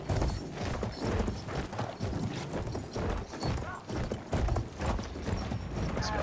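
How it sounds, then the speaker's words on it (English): Horse hooves pound in rapid galloping clip-clop in the World War I shooter game Battlefield 1, loud and busy over rumbling game noise and clattering mechanical sounds, without speech. "were the soldiers back in the day drunk driving these damn horses?"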